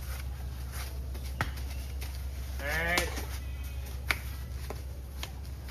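Indian improved-breed male goats on a farm at Kalurghat bleat at dusk, one clear wavering bleat standing out near the middle over steady background hum, with a few faint thuds and scattered sounds around it.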